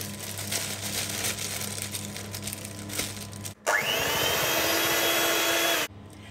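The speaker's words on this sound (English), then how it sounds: "And then we'll whisk it up." Electric mixer whisking Christmas cake mixture from a kit, a loud steady motor whir that starts abruptly after some quieter clattering and runs for about two seconds before cutting off.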